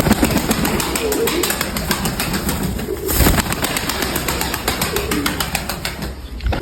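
Grey-sided pigeons, a cock and a hen, coo loudly and close in a steady stream, with a dense layer of cooing and bird noise throughout and a voice faintly underneath.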